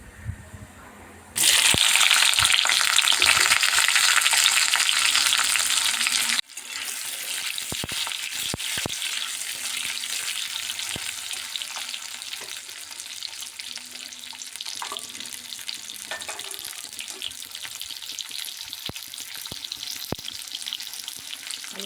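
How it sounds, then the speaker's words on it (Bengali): Potatoes frying in a pan of hot oil with garam masala and cardamom, a loud bright sizzle bursting in as they go in, then settling into a steady quieter crackle with occasional pops. "গরম মশলার গন্ধ বেরোলে আমি আলুটা দেবো, আলুটা ভেজে নেব"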